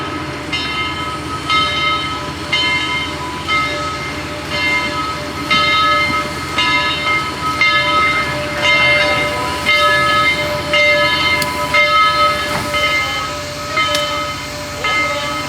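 Southern Railway 4501 steam locomotive approaches a platform in mist, loud and near, with a rhythmic chuffing and a steady whistle-like tone over rumbling rail noise.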